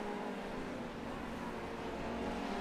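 Formula 3 race cars in the iRacing simulator at Phillip Island, a continuous loud engine drone holding steady with a dense buzzing tone and no pauses.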